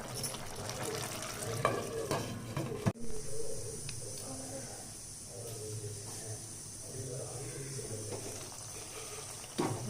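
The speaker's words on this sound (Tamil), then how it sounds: "இப்போ திரும்ப நல்லாவே இப்போ மீடியமில் இருக்கிற ஃப்ளேமை வந்து சிம்மில் வச்சு ஒரு 5 நிமிஷம் நல்லா கொதிக்க விடலாம்" Vegetable curry made with seven kinds of vegetables simmers on a low flame in a pot while being stirred, giving a steady close bubbling sizzle with scraping stir strokes and a sharp clank near the start, under speech.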